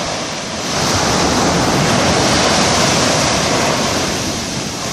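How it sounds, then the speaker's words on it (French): Ocean surf rolls onto the beach at Cambaie, Réunion, at dusk as one long, loud wash of broadband noise, swelling and then easing, with wind across the microphone. "l'océan et ses vagues."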